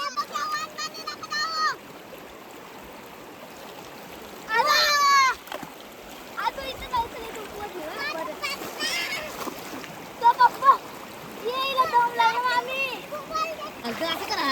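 Water splashing as people bathe in the Pej river near Anjap village in Karjat, with brief louder bursts amid near-constant chatter from several voices, including children.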